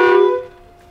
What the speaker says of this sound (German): Da, wo der Knopf ist, das ist unsere Hupe.